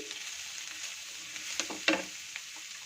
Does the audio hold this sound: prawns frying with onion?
yes